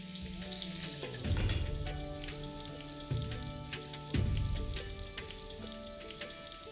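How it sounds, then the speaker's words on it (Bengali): Potatoes and eggplant frying together in a little oil in a pan, a steady sizzle with several louder bursts of crackle as pieces shift. Background music plays throughout, and no one speaks. "আর এই আলু আর বেগুনটাকে আমি একই সাথে ভেজে নিচ্ছি"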